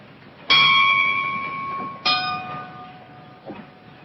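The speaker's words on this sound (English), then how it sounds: "Make one bell. One bell, sir." A ship's bell on board a vessel is struck twice, about a second and a half apart, each stroke a bright ringing clang that decays slowly, with a fainter knock near the end.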